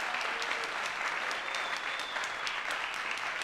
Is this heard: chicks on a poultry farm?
no